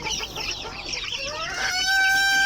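US Silkie chicks just hatched from an incubator peep in a busy, overlapping chorus close by, one chirp rising into a clear, sustained high tone near the end.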